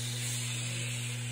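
A voice imitates a fire hose spraying water, a steady loud hiss of rushing spray held unbroken for about a second and a half over a low hum.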